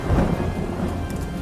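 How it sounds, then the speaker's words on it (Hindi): Heavy rain pours with a low rumble of thunder in a television drama scene, a dense, loud wash of rain throughout with no voices. "भाई बारिश हो रही है"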